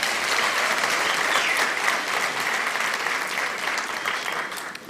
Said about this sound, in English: Ladies and gentlemen, let's give the VC another round of applause.